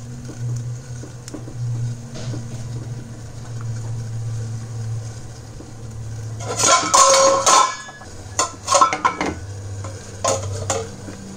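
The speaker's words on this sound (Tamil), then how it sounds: "எல்லாத்துலேயும் நம்ம செஞ்சு வச்சுருக்கிற கொல்கட்டையெல்லாம் எடுத்து இது மேலே வச்சிடலாம்." Sweet modak dumplings (kozhukattai) are set down onto a greased idli steamer plate in a home kitchen, giving a few clattering bursts of metal and handling noise over a low steady hum, with no talking.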